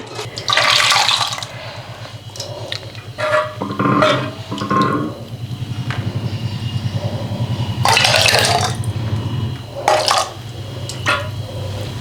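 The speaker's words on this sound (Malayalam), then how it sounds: "ഇപ്പോൾ പായസം പാത്രത്തിലാക്കാനായിട്ട് പോവുകയാണേ" Payasam, a sweet pudding, being poured from a large vessel, heard as thick liquid gurgling and splashing in bursts, close by, with clanks of the pot between pours.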